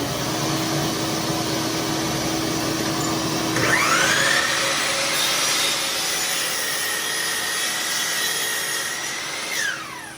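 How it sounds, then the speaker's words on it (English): A Ridgid 16-gallon stainless steel shop vac roars steadily while hooked to a miter saw, which whines up and bites through a half-inch-thick board midway, loud and continuous with no speech. "We have the shop vac hooked up to the miter saw. I'm going to be cutting through this 1/2 inch thick board here."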